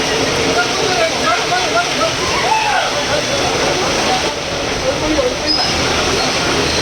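Dense, steady rush of rain floodwater flowing through a street up close, deep enough to reach a scooter's tyres, sloshing and churning throughout, with people talking over it.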